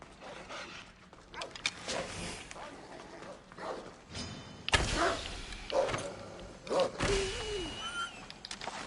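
Wolf growling and yelping as it is killed in the video game Assassin's Creed Odyssey, with bursts of combat thuds and impacts, a sharp animal cry near the end, fairly loud over a game soundscape.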